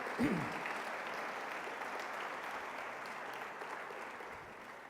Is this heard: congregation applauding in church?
yes